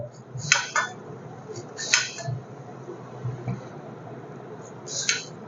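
A small thin knife cuts garlic cloves on a board, giving scattered crisp taps and light clinks in small clusters, close and moderately loud over a quiet kitchen background.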